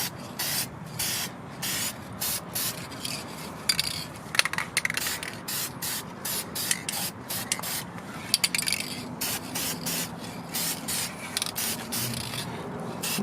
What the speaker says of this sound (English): Spray. Light coats.